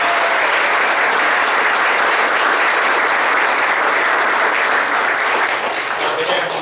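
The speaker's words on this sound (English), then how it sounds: "let's give them a round of applause." A township committee meeting audience applauds the high school varsity swimmers: loud, sustained clapping carries evenly for several seconds and eases slightly toward the end.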